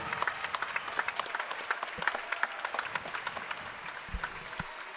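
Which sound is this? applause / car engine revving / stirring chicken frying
applause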